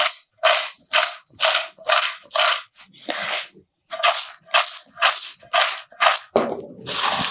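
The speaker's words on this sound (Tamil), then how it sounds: "இந்த மாதிரி குலுக்கி விடுவோம்" A roasted gram and nut mixture is shaken in a pan, giving about a dozen close, crisp rattling bursts in a quick even rhythm, broken by one short pause midway and a final scrape.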